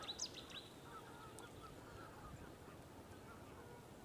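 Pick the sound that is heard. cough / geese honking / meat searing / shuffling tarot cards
geese honking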